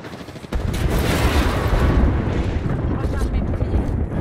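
Grenade explosion in Apex Legends, a sudden loud boom that swells into a long rumbling roar of debris and crackle, dense and close, fading slowly over several seconds.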